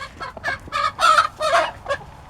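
A rooster at a backyard chicken coop giving loud, close, broken crowing and clucking calls in several bursts, with short pauses between them.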